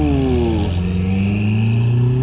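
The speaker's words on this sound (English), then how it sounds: "You hear the turbos on that mug?" Turbocharged car revving hard close by, with a loud engine note that dips and then climbs steadily in pitch.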